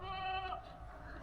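Nubian dairy goats bleating on a farm, a clear, nasal, wavering cry that rises near the start and then breaks off into low barnyard murmur.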